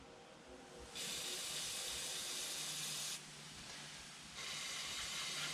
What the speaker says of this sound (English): I'm gonna spray that out.